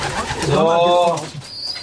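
Pigeons at a loft in a Pankow allotment garden give a close, throaty coo with a rolling warble, while someone speaks briefly nearby.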